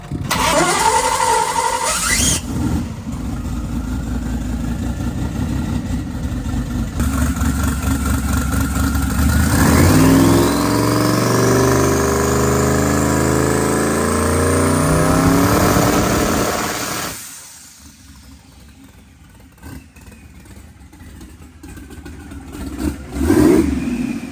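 Race car engine held on a trans brake, revving hard and loud for about fifteen seconds with a rising whine, then dropping to a lower idle before a final short blip; no talking.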